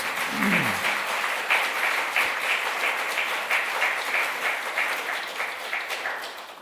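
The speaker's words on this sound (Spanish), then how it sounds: "¿Cuántos le dan un aplauso al Señor?" A church congregation applauds in praise, steady dense clapping from many hands filling the room, with a faint voice near the start.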